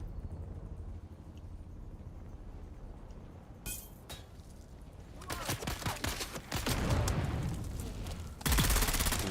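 A thrown grenade in Dune: Awakening bursts with a loud close blast, then heavy gunfire and crackling debris crowd in, ending in a final sustained roar of noise.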